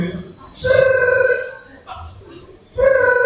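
A telephone ringing in a French children's story, two loud sustained electronic rings separated by a pause, with brief speech between them.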